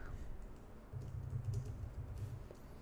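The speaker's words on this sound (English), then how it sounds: "let's type some dummy text" Typing on a computer keyboard, a quick run of soft close key clicks and taps against low background hum, faint and brief.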